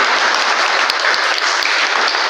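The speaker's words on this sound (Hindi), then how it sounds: "बिल्कुल जोरदार इनके लिए तालियां बजाएं," Audience applause at a summer camp event for a dance studio, steady dense clapping filling the whole stretch at close range, with no talk over it.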